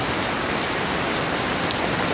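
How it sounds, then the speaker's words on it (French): Steady, dense rain falls outdoors in warm weather, a constant hiss with scattered nearby drops and no voices. "Il fait 27 degrés et il pleut."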